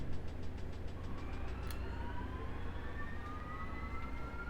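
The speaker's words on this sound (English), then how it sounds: "we can hear the engines kicking on" Helicopter turbine engines of an OH-58D Kiowa spooling up in the DCS flight simulator, a steady broadband roar with thin rising whine tones climbing through the clip, plus a rapid ticking pulse early on.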